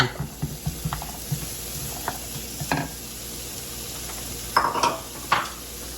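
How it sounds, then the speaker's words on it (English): Vidalia onion sizzling in a pan while being stirred, with a steady soft hiss broken by repeated spatula scrapes and clicks against the pan, some sharper taps near the end. "I'm adding the Vidalia onion. Stir it up a little bit"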